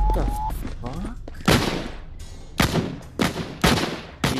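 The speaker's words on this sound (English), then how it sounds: "these gunshots are realistic as shit" Video game gunfire: a short run of loud, sharp gunshots cracks out at irregular intervals, each a sudden close burst, with a voice talking faintly at the start.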